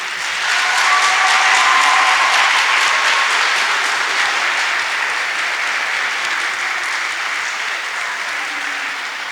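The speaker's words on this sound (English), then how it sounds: "with a hearty round of applause" Secondary school graduation audience giving a hearty round of applause, a dense loud wash of clapping that swells early and then holds steady for several seconds.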